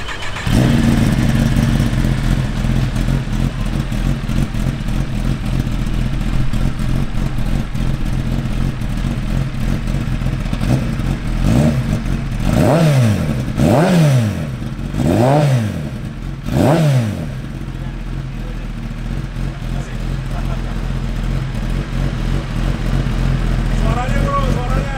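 A 2016-2017 Kawasaki ZX10R superbike idles loudly, then its engine is revved in four or five quick rising-and-falling blips before settling back to idle, with people talking nearby.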